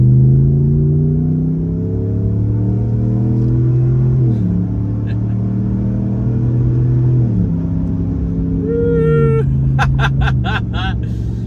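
A Ram 1500 pickup's Hemi V8 engine, at 80,000 miles, rumbles steadily nearby with deep low harmonics, the pitch shifting as it revs through gears, with a brief higher whine near the end.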